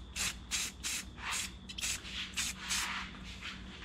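An antique license plate for a 1960s VW Beetle is spray painted black with a rattle can, a close series of about eight short, even hissing bursts in a steady rhythm.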